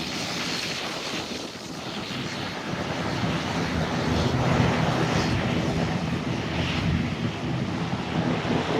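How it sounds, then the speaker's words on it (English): A Spirit Caribbean ATR 72 turboprop takes off from the airport runway, a broad, steady roar that swells midway, heard from a distance through heavy wind buffeting on the microphone. "Spirit Caribbean flight 509 heading to Beach Island on an ATR 72"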